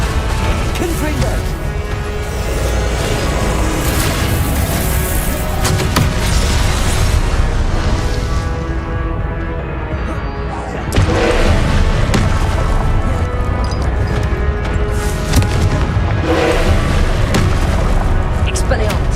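Booming blasts of the Confringo curse and other spell clashes in the Hogwarts Legacy game hit loud and dense over a continuous roar of battle, with a player shouting spell names over the din.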